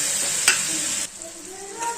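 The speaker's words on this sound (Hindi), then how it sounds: "डाल देंगे थोड़ा सा चने का पानी और लो फ्लेम पे सारे तड़के को 1 से 2 मिनट के लिए पकने देंगे।" A spice tempering (tadka) for a chickpea curry sizzles over a low flame as a little chickpea cooking water is added. A loud, steady hiss drops to softer, uneven bubbling and crackle after about a second.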